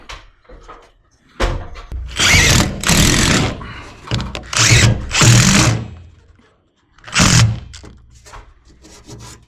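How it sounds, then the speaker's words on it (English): A power drill sinks screws into villa board around an old ceiling skylight, with several loud whirring bursts of a few seconds each separated by quiet pauses, heard up close with no talking. "So I had to use a drill"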